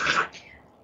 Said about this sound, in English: I was hearing a little bit of your cough